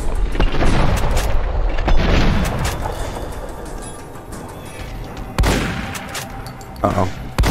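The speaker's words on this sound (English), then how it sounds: "Hunting shotgun." A hunting shotgun booms repeatedly in Fallout: New Vegas, several heavy blasts spaced irregularly over continuous rumbling game noise and background clatter.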